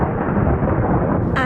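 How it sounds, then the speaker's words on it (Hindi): Cartoon thunder rumbles as a loud, continuous low roll from a stormy sky, steady throughout with a brighter crackle near the end, no speech over it. "आसमान पर बादल गरज रहा था।"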